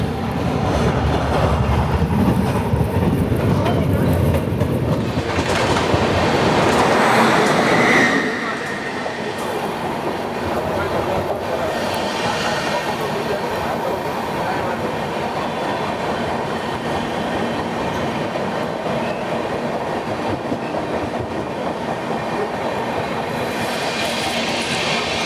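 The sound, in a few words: train passing through Anand Junction without stopping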